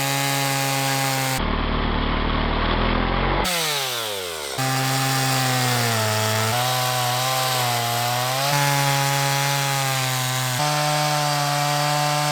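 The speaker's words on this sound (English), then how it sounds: "I'm going to chop up with a chainsaw to get the fire going tonight" A chainsaw cuts a fallen tree into firewood in the high country, its engine whining loud and close with shifting pitch as the blade bites, after a short break in the sound.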